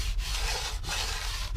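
A balsa model wing for a Guillow P-47D is sanded with diagonal strokes across the surface, producing a close, continuous gritty rasp with brief dips between passes and no talking.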